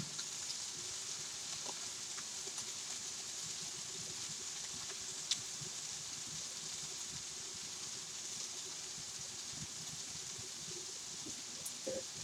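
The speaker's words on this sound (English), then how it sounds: "You're going to hear the sizzling." Chicken sizzles in a pan, giving a faint, steady crackling hiss throughout with small scattered pops.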